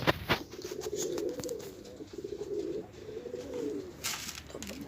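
Dumanlı pigeons, white and saz-winged birds with young, coo inside a loft in repeated soft, rolling calls that rise and fall close by, mixed with a few faint clicks and rustles.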